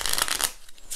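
Plastic Waddingtons No 1 Gold & Platinum playing cards being shuffled, a quick close riffle of flexible cards in a quiet room, followed by a brief lull and another short burst.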